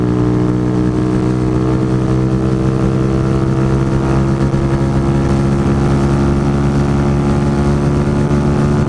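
A Lifan KP Mini motorcycle runs during a speed test, its engine giving a loud, steady, close drone that holds an even pitch throughout, with no voices.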